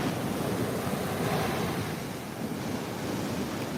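Surf washes in steadily at Fort Lauderdale beach as the tide rises, a constant loud rush of breaking water mixed with wind noise, no talking.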